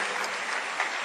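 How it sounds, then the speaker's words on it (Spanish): A congregation at a pastors' retreat applauds in a short, continuous wash of clapping, fairly faint and even throughout. "le damos un caluroso aplauso y bienvenida"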